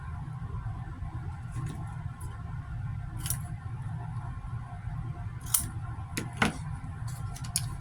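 Scissors cutting a paper file folder into a tag, a few quiet snips and clicks over a steady low background hum, with no talking.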